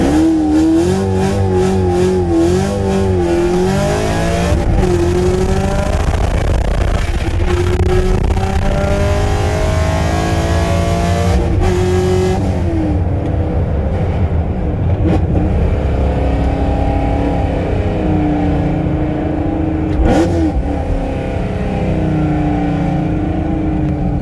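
Camaro LT1 V8 with a cam, headers and E85 fuel under hard acceleration, the engine revving loudly up and down through repeated climbs and shifts, heard close from inside the car for a long, continuous stretch.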